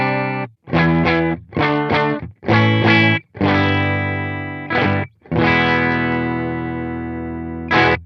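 Electric guitar on its full humbucker pickup through a PRS MT15 amp, playing loud overdriven chords and sustained notes in short bursts, with one long ringing chord near the end; no talking.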